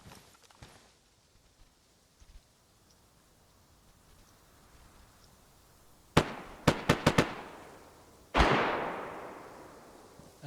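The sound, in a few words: heavy gunfire in a video game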